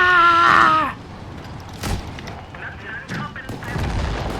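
Tank cannon shots from World of Tanks gameplay land as a few heavy booms after a brief vocal outburst, loud and spaced apart over low game rumble.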